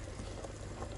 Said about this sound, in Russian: Я парю 5 яиц.